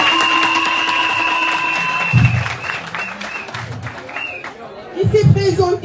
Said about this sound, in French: Donc, applaudissez pour lui